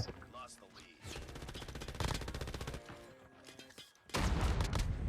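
Rapid automatic gunfire from a light machine gun in the mobile shooter game Call of Duty Mobile, delivered in loud sustained bursts with brief pauses between them, heard close and alone.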